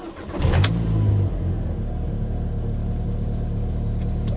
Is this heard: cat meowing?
no